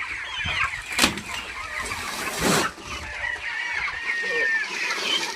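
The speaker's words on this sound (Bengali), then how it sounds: "এখানে প্রায় 380 পিসের মতো মুরগি আছে" A flock of about 380 broiler chickens, over 30 days old, cluck and chatter at moderate distance, with a couple of louder bursts and thin high calls; no talking.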